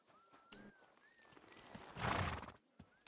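Horse in the medieval video game Kingdom Come: Deliverance II gives a clear neigh and whinny with clip-clop hooves, fairly faint in the game mix.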